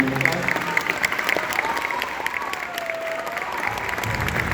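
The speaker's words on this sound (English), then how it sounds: "Can we give them one round of applause?" An audience applauds a school honor band whose students received medals at a solo and ensemble event, with a steady wash of clapping that continues for the whole stretch and a voice speaking faintly over it.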